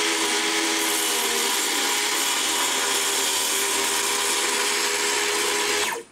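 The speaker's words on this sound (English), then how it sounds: "So I'm going to do a plunge cut." A power saw makes a plunge cut into wood for a raised garden bed. It gives a loud, continuous close-up whine and rasp that holds steady throughout and stops abruptly at the end.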